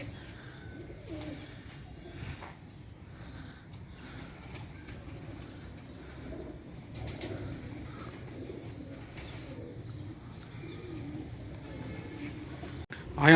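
Pigeons coo softly inside a pigeon loft with cages, low repeated calls and an occasional wing flutter running under quiet background talk.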